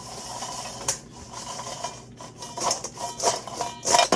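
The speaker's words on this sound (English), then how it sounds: "Gonna give them a quick mix." Dry, crisp rustling and scraping as crispy french fries are tossed around a bowl, with louder crunchy bursts near the end; no talking.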